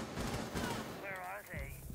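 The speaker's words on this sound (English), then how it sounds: "How did I get shot at?" Gunfire from the Rainbow Six Siege video game crackles in bursts of sharp shots, mixed under steady talking voices throughout.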